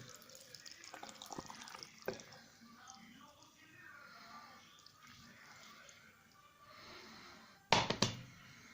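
Liquid poured slowly over vinegar in a jar while preparing pickled okra, a faint trickle with scattered drips and a louder splash near the end, close and quiet.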